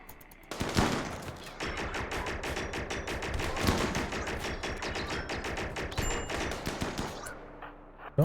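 Sustained automatic gunfire in the RimWorld colony game, dense rapid bursts of shots running almost continuously for several seconds at steady loudness, with a heavier thud near the start and a sharp final shot.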